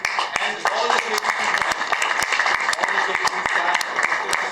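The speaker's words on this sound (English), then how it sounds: "Another round of applause for Qudrat Saab and the chairperson KPT and all the KPT" An audience at a Karachi press conference with federal ministers and port officials claps steadily in sustained applause, a dense field of hand claps with a few sharper individual claps standing out, fairly loud throughout.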